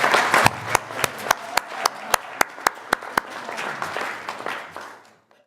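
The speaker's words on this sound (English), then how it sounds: "Give her a round of applause, people." An audience gives a round of applause at a business testimonial event, with sharp, evenly spaced claps standing out over a dense, loud burst of clapping that gradually thins and fades to silence.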